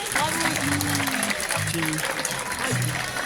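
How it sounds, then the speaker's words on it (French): An audience claps and cheers loudly while a voice speaks over the applause near the microphone. "On peut applaudir très fort."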